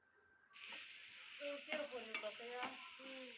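Chopped beetroot and curry leaves stir-fry in a pan, a loud steady sizzle starting suddenly after a short pause, with scraping stirs of the spatula clattering through it.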